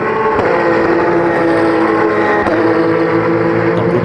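Porsche race cars of the Lorient Racing team competing on a circuit in hot weather: a loud, continuous engine roar with a sharp transient or two, no voices.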